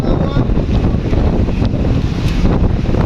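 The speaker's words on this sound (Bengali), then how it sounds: "প্রচুর পরিমাণ বাতাস হচ্ছে আর ছাতি সব অফ করতেছে" Loud wind during a rainstorm in Faridpur town batters the microphone with a constant heavy roar and low rumble. It continues without pause, and there is no talking.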